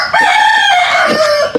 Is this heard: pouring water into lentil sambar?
no